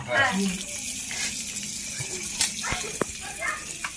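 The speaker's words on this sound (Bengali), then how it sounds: "গায়ে জল মারতে হবে" Water is splashed over a person's body to wash off filth, several wet splashes and pours against a steady watery background with voices talking nearby.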